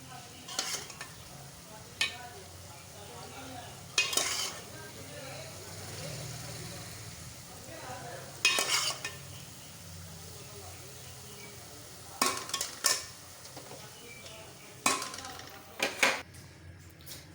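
Fried urad (mash) daal with ghee is served out of a cooking pot. A spoon scrapes and clinks against the pot in scattered sharp knocks over a faint background hum, with someone talking quietly.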